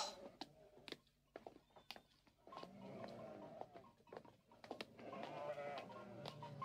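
A herd of goats bleats in short scattered calls that build into overlapping cries, some near and some farther off, with soft patter of hooves between them.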